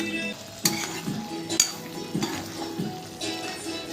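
Duck curry meat is stirred and fried in a pan over a high flame, with repeated scraping strokes of a spatula against metal about every half second over a soft background sizzle, close and alone.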